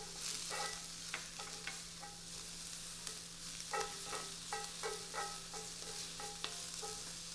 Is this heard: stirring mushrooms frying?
yes